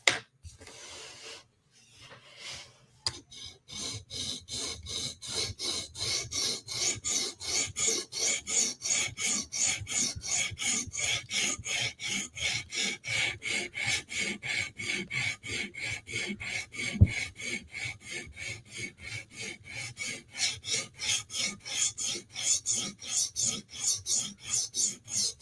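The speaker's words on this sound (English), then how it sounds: "So right now I'm profiling the edge." A knife edge is profiled on a sharpener at a 17-degree angle, a steady rhythmic rasping of quick repeated strokes, close and fairly quiet, continuing without pause.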